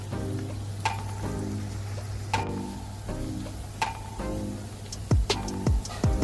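Onions frying with ginger garlic paste in a pan give a steady sizzle, with spoon scrapes and clinks of stirring repeating every second or so, close by, with no talking.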